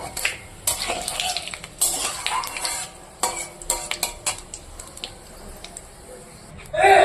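Onions frying in a pan of oil with bay leaves and dried red chillies, a steady soft sizzle broken by scraping stirs and light clinks of a utensil against the pan, close by, with a louder clatter at the end.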